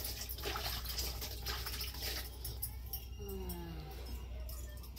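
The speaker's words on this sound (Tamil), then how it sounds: "கை கழுவிட்டு வர்றாரு." Water runs from a tap in a home kitchen while someone washes their hands. It makes a soft, steady rush with faint splashes, fairly quiet and close, alongside light background sounds.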